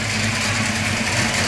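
A 1989 Ford Mustang GT with a 5.0 V8 idles steadily with a quiet aftermarket exhaust, a constant low rumble with no revving, and no one speaks.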